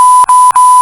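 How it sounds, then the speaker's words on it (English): A loud, steady censor beep tone runs nearly continuously, broken by two tiny gaps where it briefly cuts out. "I'll put a beep over it."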